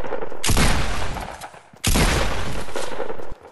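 Two long, loud bursts of rapid automatic gunfire in a battle royale video game, each lasting over a second and separated by a brief pause.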